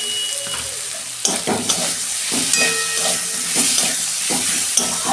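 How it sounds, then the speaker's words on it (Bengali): Ginger-garlic paste sizzles in hot oil with turmeric and green chilli for a cabbage and fish-head dish, a loud continuous fry with steady hiss and repeated scraping spatula strokes as it is stirred, with no talking. "এই ভালো করে কষাবো এবার"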